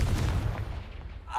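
A Confringo fire spell blast in a wizarding video game, a loud booming burst with a low rumbling tail lasting the whole moment, dense and close.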